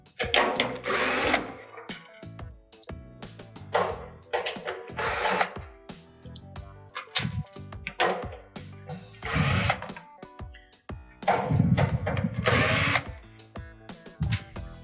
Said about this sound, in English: Here we remove the screws from the front panel.